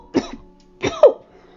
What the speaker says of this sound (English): He coughs before continuing.